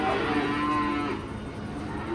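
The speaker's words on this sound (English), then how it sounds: "Just 2 black cows." Two black cows moo, giving a low, drawn-out, fairly loud call outdoors on a farm, with a faint second lowing following it.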